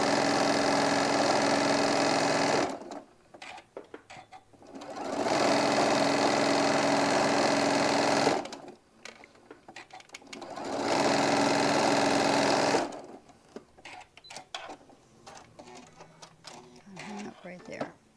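A sewing machine sews a 1/4 inch seam on a hobo bag in three steady whirring bursts of a few seconds each, with quieter gaps between where a voice speaks.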